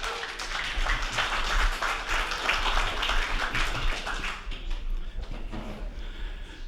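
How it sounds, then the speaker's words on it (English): Audience at a social centre variety night applauds a singer, a lively burst of clapping that holds for several seconds and then fades into scattered claps. "Give him a big round of applause."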